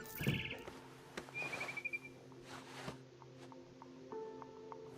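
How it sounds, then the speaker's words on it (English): Short, bright barn swallow chirps and a quick twittering trill from the video game What Remains of Edith Finch, over a quiet hum, fairly close, with a few soft clicks. "Then I heard chirping outside my window. It was a barn swallow going back to her nest."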